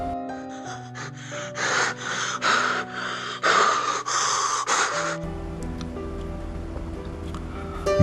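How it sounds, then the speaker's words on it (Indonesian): Ragged, panting gasps come one after another in a rapid series of close, breathy bursts, then give way to a low ambient rumble and a faint drone. "Tarikan nafas saya yang tersengal satu demi satu."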